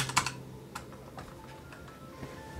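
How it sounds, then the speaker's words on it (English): Rapid keystrokes on a computer keyboard, a burst of loud clicks at the start and then lighter, scattered taps, close and clear with no talking. "Let me type it in for you."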